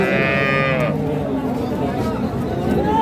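Dairy cattle, Sahiwal, Sindhi and local breeds with calves, moo loudly and close at an open livestock market in Ambari. Voices and crowd noise run underneath throughout.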